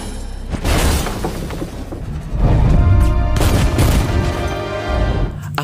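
Gunfire in a slow-motion action scene from the Hitman: Agent 47 film, with loud sharp shots, shattering and crashing impacts mixed over a dense roaring action score that swells and stays loud throughout.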